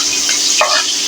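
Papaya and egg sizzling in a frying pan, a loud, close hiss with scraping and clicking strokes from stirring, running continuously with no speech.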